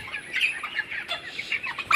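A 27-day-old broiler chicken on a poultry farm clucking in short, close, repeated bursts as it is lifted, the calls irregular and ending in a sharper squawk.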